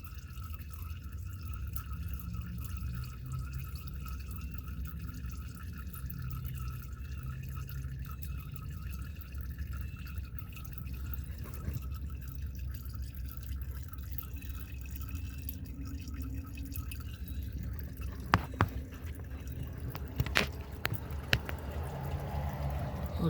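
ATF4 transmission fluid drains from a Jeep Grand Cherokee WK 3.0 CRD during a fluid change, a faint, steady trickle with occasional soft drips and small clicks near the end, heard alone with no voices.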